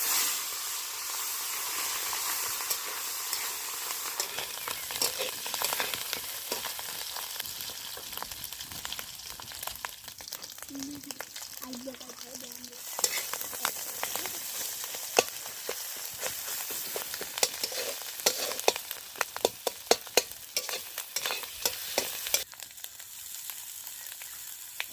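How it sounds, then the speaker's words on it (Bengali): Fish roe from magur catfish frying in a pan at an outdoor picnic, a steady close sizzle with bursts of crackling and spattering that rise and fall throughout, with no voices. "এখন আমরা এই মাছের ডিম ভেজে নেব।"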